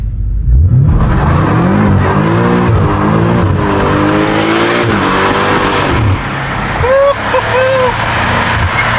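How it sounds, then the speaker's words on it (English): A blacked-out BMW M5 accelerates hard from near standstill, its engine note climbing through rising harmonics with a gear change, loud and close, tires squealing, while voices talk over it inside the car. "this fucking car's loud as shit now"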